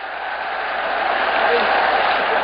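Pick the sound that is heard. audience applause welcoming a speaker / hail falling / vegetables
audience applause welcoming a speaker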